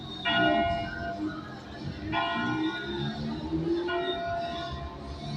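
Church bell in Gramado in the Serra Gaúcha tolling three times at an even pace, each ringing strike sustaining over a low hum of street and traffic noise with faint voices.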